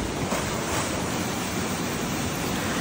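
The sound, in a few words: mini waterfalls around The Island Nature Spring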